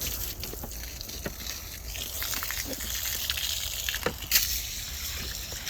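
Water gushes and splashes continuously over a black box fan, a steady wet rush with a few brief louder splashes and faint trickling, no talk.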